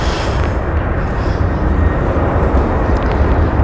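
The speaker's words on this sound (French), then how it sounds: "Là ici on a le bruit des avions." Airplanes pass overhead near a vast old storage building, making a loud, continuous broadband roar that fills the whole short stretch.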